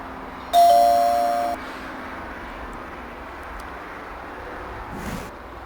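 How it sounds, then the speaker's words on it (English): A single electronic doorbell buzz in the video game Zak McKracken and the Alien Mindbenders, bright and steady for about a second, then fades into a quiet room hum with a faint soft thump near the end. "Closed for service, push doorbell."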